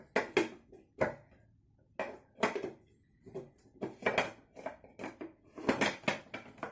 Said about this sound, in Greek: βάζουμε το καπάκι